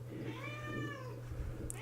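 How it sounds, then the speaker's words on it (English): A hungry house cat lets out one long, rising-and-falling meow, fairly close and insistent, over a low steady hum in a room where someone is working on a desktop computer. "And my cat is screaming at me again."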